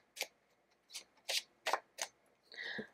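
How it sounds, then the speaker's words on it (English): Tarot cards are shuffled close by in a run of short, crisp riffling bursts with small gaps between them, ending in a longer rustle, and no one speaks. "So I have your cards here and I'm just going to shuffle them"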